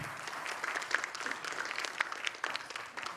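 An audience of law students applauding at a talk, a steady patter of many hands clapping at moderate distance, fairly soft and continuous for the whole stretch with small bursts.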